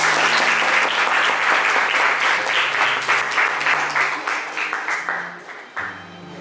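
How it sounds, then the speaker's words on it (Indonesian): A classroom of students applauds a student group after its presentation, steady dense clapping from many hands that gradually thins and fades toward the end. "Silakan aplaus untuk kelompok 3."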